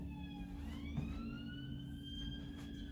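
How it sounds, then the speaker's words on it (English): A police car siren wails past, its rising and falling tone sweeping and shifting pitch as it goes by at a moderate distance over low traffic rumble, with no talk. "it was a police car"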